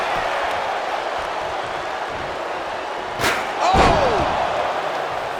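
A steel chair strikes during an AEW War Games wrestling match, heard as one sharp metallic slam with a ringing tail over a constant arena crowd roar.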